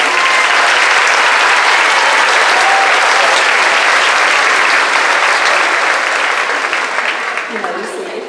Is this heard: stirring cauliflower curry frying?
no